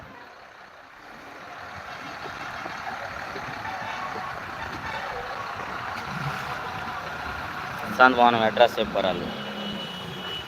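A big lorry from Nandyal rolls into the Guntur chilli market, its steady engine rumble filling the background while people talk nearby, with a short burst of sharper beeping noise near the end.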